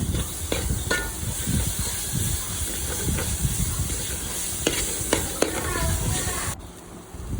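Chicken sizzles loudly in hot oil while being stirred with coriander and cumin powder, a continuous hiss broken by scraping clicks before it drops away near the end.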